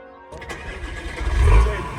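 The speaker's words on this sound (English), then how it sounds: "So now we're gonna hear the 3-liter turbo diesel starting up." A 3-liter turbo diesel engine cranks briefly, then catches and settles into a deep rumble that swells loud toward the end, with voices faintly in the background.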